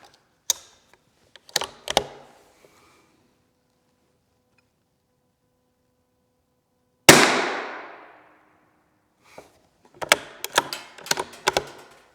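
Rifle shots fired at a target through a day/night vision scope, beginning with scattered clicks of loading, then one loud sharp report with a long decaying echo, and finally a quick cluster of handling clicks.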